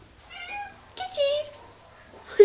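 Cats at an SPA animal shelter meow in a few short, rising cries, nearby and moderately loud, mixed with someone speaking to them.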